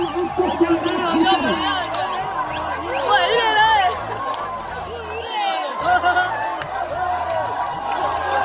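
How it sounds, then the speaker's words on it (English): Crowd at a cricket ground in Pakistan cheering and whooping as they run onto the field after an Eid tournament win, a continuous dense roar of voices and shouts throughout. "This is the sheer jubilations of the crowd."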